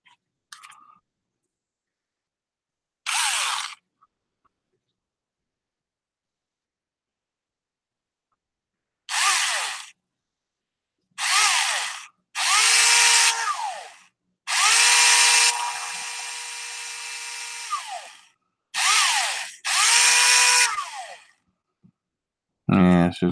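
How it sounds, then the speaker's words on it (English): A power drill fitted with a small bit runs in several short bursts and one longer whine, with quiet gaps between, close by, while working on a 1970 Ford. "And then I'll use a smaller drill bit."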